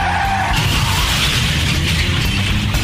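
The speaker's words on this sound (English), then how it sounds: "On the way home from the game, a deer jumps in front of your truck." A truck skids with a loud, sustained tire screech on the road after a deer jumps in front of it, a continuous harsh hiss filling the whole stretch.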